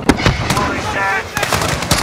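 Sharp, loud blasts from a grenade in Modern Warfare 2019, a few bangs amid dense gunfire and battle noise, close and percussive over a brief burst of chaotic combat.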